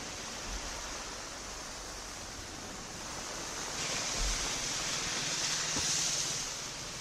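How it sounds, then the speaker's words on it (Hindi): Heavy downpour and rushing runoff in the Dehradun hills: a dense, steady broadband hiss of rain and flowing water that swells slightly midway, with no voices. "देहरादून में भी मूसलाधार बारिश हो रही है, तेज बारिश के चलते जगह जगह पानी भर रहा है"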